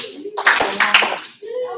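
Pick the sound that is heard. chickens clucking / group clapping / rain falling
group clapping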